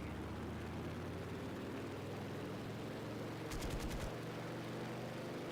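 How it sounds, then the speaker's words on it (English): A fast plane in Garry's Mod, from the Neurotec Micro Naval mod, drones steadily with a constant engine roar, broken briefly near the end by a quick rattling burst of gunfire. "This plane is just really fast."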